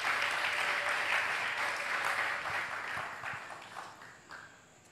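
Audience applause at a polygamous wedding celebration, dense clapping that starts loud and gradually thins and fades over a few seconds, with no talk over it.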